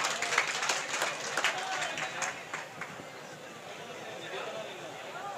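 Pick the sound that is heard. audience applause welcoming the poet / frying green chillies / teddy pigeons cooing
audience applause welcoming the poet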